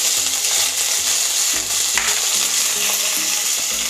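Cut curry leaves sizzling in hot oil in a vada pav batter preparation: a steady, close, loud crackling hiss with brief spatters and a faint low hum beneath, no voices.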